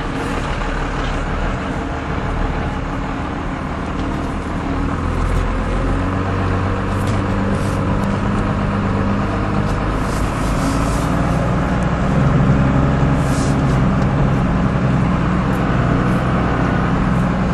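A 1996 Dodge Ram 2500 utility truck with a Cummins diesel and five-speed manual drives across a pasture, its low engine drone and rumbling body noise steady and close throughout, with faint rattles and no talk.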